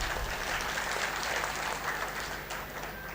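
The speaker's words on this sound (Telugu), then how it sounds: "నాతో సమ్మతించే వాళ్ళు గట్టిగా చప్పట్లు కొట్టవచ్చు" A crowd at a political speech on Bastar and Adivasi rights claps together, a steady wash of applause holding evenly then easing slightly near the end, moderately distant.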